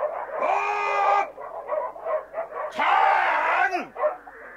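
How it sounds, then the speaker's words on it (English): Dogs barking and yelping in a dramatised audiobook scene set at a farmhouse, with two long loud bursts of harsh, strained barks separated by shorter yaps, close and insistent. "He must have heard the barking."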